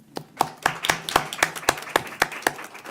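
Applause breaks out at a school board meeting, heard as a sparse run of about ten sharp, evenly spaced claps from a small group, fairly close and alone without talk.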